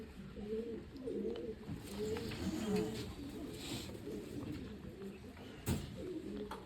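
Pigeons, white-marked birds, cooing in soft repeated low phrases at close range, with a brief louder knock near the end and faint background murmur.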